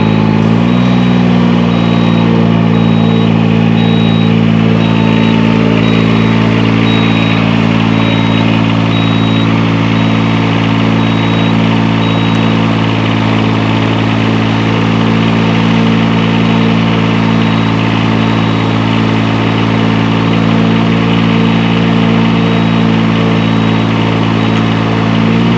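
Diesel engine of a Palazzani Spimerica TSJ-82 tracked boom lift idling steadily at close range, a loud constant drone with a strong low hum and faint beeping over it, no voices.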